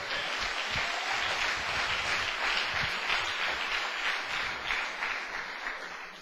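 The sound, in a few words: applause for the Lord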